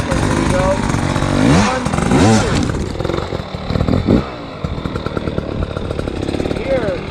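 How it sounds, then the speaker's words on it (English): Enduro motorcycle revving in two quick blips of clutch and throttle to lift the front tire and climb over an obstacle on a hard enduro track, loud and close with rising engine sweeps, over someone talking. "2 blips of the clutch and throttle, one to get the front tire into the air, a second load to propel us over"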